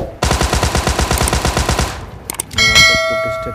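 Heavy automatic gunfire in an online shooter game, a loud rapid burst of shots lasting nearly two seconds, followed by a few scattered reports and a ringing metallic tone.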